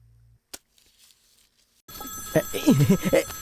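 A phone ringtone starts suddenly and keeps going beneath voices talking over it.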